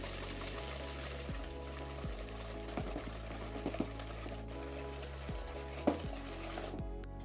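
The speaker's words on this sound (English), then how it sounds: "then we're going to add the melted butter. Just mix that till it's all well mixed in" Melted butter is poured into a runny apple cake batter and mixed in, giving a steady low whirring churn that shifts in pitch now and then, with a few soft clinks near the end.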